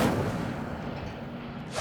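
The Incendio fire spell going off in Hogwarts Legacy, one short loud fiery burst with a low rumble that fades over under two seconds.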